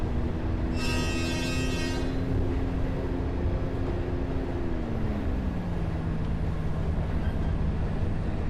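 A train runs in the Train Sim World video game: a low steady engine rumble with a sustained tonal drone that shifts pitch partway through, and a bright whistle-like tone early on.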